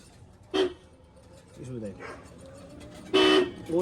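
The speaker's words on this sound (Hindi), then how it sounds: "एक बार हॉर्न बजा दे।" A car horn toots twice, a short beep and then a longer honk, with people talking nearby between them.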